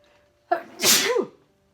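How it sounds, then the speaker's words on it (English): A single loud sneeze, a sharp inhale followed by a forceful burst, close up in an otherwise quiet space. "I'm going to sneeze."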